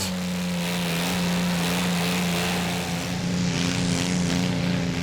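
A pulling tractor named Elliot, powered by a Kubota 722 engine, runs at a 2008 Danish tractor pulling championship round in Frederikssund. It gives a loud, steady droning roar with a strong humming tone, nearby and alone without talk.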